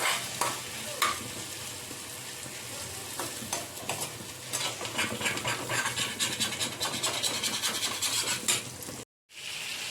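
Potatoes and tomatoes fry in a pan with a continuous sizzle, stirred with frequent scraping strokes, close and steady until a brief cut near the end.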